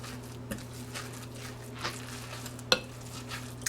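A salmon patty mixture with sprinkled flour is stirred in a bowl, making quiet, soft scraping and squishing with an occasional faint clink of a utensil, near and without speech.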